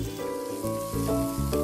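Garlic, chili and cubed tomato sizzling in ghee in a frying pan, a steady close crackling fry with soft bubbling, no voices.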